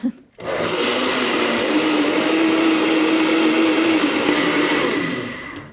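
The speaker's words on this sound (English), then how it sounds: "a really good high-powered blender" After a brief pause, a high-powered blender blending cashew-based vegan nacho cheese roars to life and runs steadily at full speed, loud and close.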